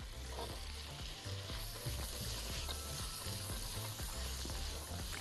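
Mushrooms frying with peas and vegetables in a pan for a dish of orzo with vegetables: a continuous dense sizzle with occasional scraping stirs, close up and steady, no talk.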